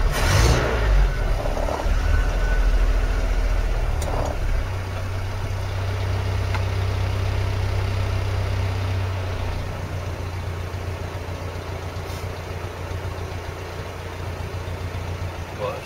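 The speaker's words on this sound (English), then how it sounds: "I'm not going to choke it for the minute, just give it high idle." A Land Rover Series engine running at high idle without choke: a loud, steady low rumble and roar that holds constant and eases slightly after the first few seconds, with no talking.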